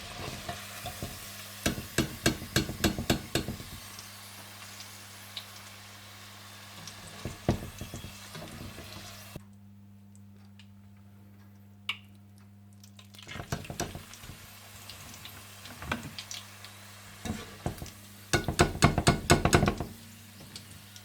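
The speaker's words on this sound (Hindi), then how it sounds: "इस तरह से आप सारी चिकन को फ्राई करके निकाल लें" Chicken deep frying in hot oil, a steady sizzle with bursts of crackling spatter and stirring clatter, dropping briefly to near silence midway before the frying resumes, no voices.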